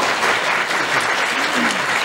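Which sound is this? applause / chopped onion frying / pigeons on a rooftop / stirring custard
applause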